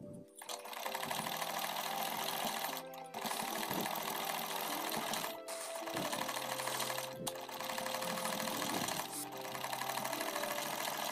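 A sewing machine stitches the side slit of a ladies' suit in long rapid whirring runs, pausing briefly between bursts, loud and close with no talk.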